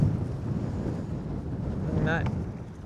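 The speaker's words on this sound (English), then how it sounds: "It's a little bit gale force windy right now." Strong gale-force wind buffets the microphone in a constant heavy rumble, with a brief higher squeal near the end.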